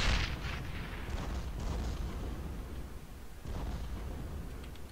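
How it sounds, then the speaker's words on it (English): Rocket salvo explosions from a high-angle barrage in Company of Heroes, a rumbling series of booms and bursts rolling on at moderate distance, with a fresh volley of impacts toward the end. "I'm going to use the high angle rocket salvo because I don't want to hit my own"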